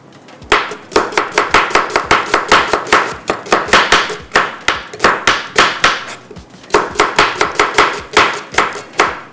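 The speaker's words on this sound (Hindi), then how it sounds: "चलें जी, प्याज को कटिंग करते हैं।" Onions are chopped on a board with a knife in fast, loud, evenly spaced strikes, a few short pauses breaking the rhythm, with no talking.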